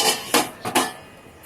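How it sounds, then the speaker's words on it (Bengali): A lid goes onto a pot of rasmalai with three or four quick, close metallic clanks and rattles that fade into quiet, with no voices. "আমি একটু ঢাকা দিয়ে রেখে দিলাম।"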